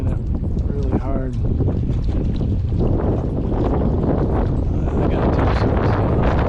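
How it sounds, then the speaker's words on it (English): Strong wind buffets the microphone on a lakeshore, a constant heavy roar filling the whole stretch, while someone speaks briefly near the start. "this wind's making it really hard"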